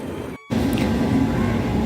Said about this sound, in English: If you ever wondered how a train station looks like in Vienna, this is now the U2, underground train 2.